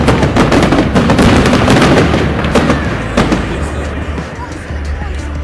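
Victory Day (9 May) fireworks salute bursting in rapid, overlapping booms and crackles, loud and continuous, with crowd noise underneath.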